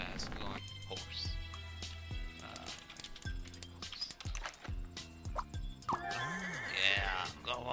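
A horse in a video game lets out a loud, wavering whinny near the end, amid game sounds and a voice talking over them.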